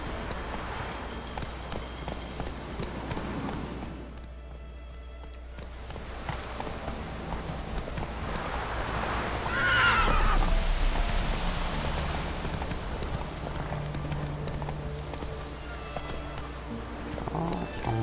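Roach, Geralt's horse in The Witcher 3, clip-clops steadily with rain falling around it, the hoofbeats continuous under spoken dialogue and game ambience.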